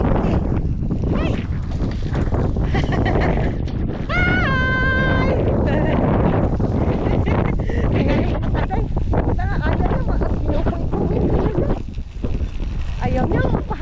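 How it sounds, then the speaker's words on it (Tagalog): Strong outdoor wind buffets the microphone with constant loud rumbling that covers everything else, while voices of a family talk and call out faintly underneath. "Oh my God, sobrang mahangin."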